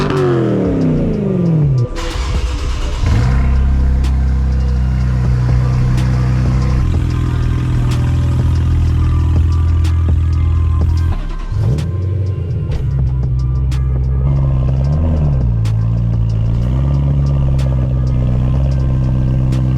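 A BMW E92 M3 fitted with an M Performance Inconel exhaust revs loudly up close, climbing through sharp blips before settling into a deep, resonant idle with occasional throttle stabs, with no one talking.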